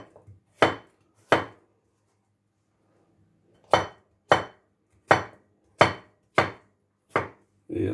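Knife chopping cucumber into small pieces on a board for a Pakistani-style chana salad: sharp, close, isolated chops, two early, then a run of six at an even rhythm, with no talk.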